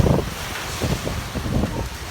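Strong Hurricane Ian winds roar in a dense, loud rush of noise that buffets the microphone in gusty surges, with no voices.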